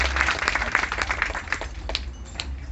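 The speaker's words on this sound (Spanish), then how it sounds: "Démosles un aplauso aquí a los muchachos." A church congregation at a patron saint's feast Mass applauds young dancers of the Moors' dance, a fairly close, steady spatter of clapping that thins out and trails off toward the end.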